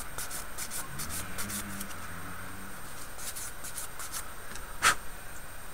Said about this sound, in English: Give it a bit of a rub down.